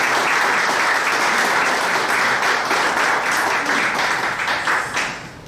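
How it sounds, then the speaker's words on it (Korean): A crowd at a church press conference and prayer event applauds steadily, dense clapping from many hands that holds even before tapering off at the end. "큰 박수 부탁드리겠습니다"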